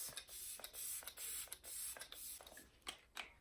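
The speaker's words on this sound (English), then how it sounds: "And I'm gonna spray out these" Quick hissing spritzes of Morphe Luminous setting spray from a spray bottle, several in a row with a few mechanical clicks, fairly faint and close.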